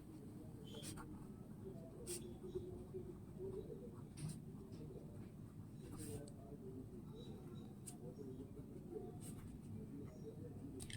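Pen or pencil scratching out figures on paper during a seventh-grade math lesson, soft intermittent strokes beneath a teacher's steady talking, with faint cooing pigeons in the background.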